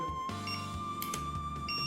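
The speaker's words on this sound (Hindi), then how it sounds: "ये लॉन्ग बीप" A ZKTeco access control machine sounds a long, sustained electronic beep, a steady faint tone heard through quiet background noise.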